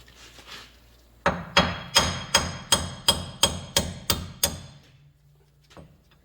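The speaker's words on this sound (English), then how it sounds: "we're going to knock one of the wheel studs out" A hammer knocks a wheel stud out of an aluminum front steering knuckle on a 2016 Dodge Grand Caravan. Ten sharp, close metallic blows land in an even, quick rhythm, followed by quiet.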